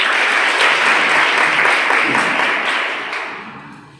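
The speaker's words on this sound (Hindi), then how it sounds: "आप जोरदार तालियों से सबका स्वागत करें" Sustained applause from a crowd, steady and full for several seconds before gradually fading out.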